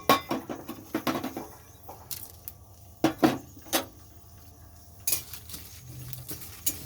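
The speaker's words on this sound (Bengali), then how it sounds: "তো কড়াইতে আমি এটা ভাজার জন্য দিয়ে দিচ্ছি" Dried chillies and bay leaves tossed in a hot, dry kadai, giving a run of light metallic scrapes and clinks from a spoon against the pan, near and moderately quiet, with no voices.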